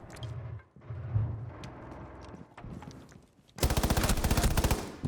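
Gunfire in a first-person shooter video game, fired through a wall: rapid bursts of loud shots near the end after quieter footsteps and movement sounds, with no voices.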